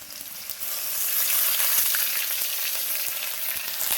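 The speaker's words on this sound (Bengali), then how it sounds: "দেখো এই তেলেতেই আমি দিয়ে দেবো আদা বাটা।" Ginger paste dropped into hot oil with chopped tomato, a loud bright sizzle that swells after a brief quieter start and holds steady, with faint scraping stirs underneath.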